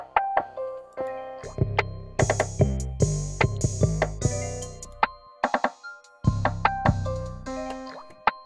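A beat run through a cell phone simulation effect from a Reason Rack Plugin: plucky, tinny stabs and thin drum hits in a choppy rhythm with brief gaps, sounding narrow and filtered.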